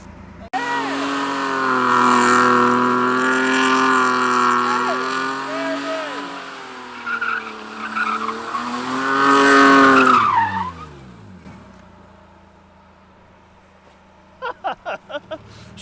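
A car drifts in circles with the throttle pressed, a loud sustained tire squeal wavering in pitch for about ten seconds alongside engine revs, then fading out, followed by a few short clicks near the end.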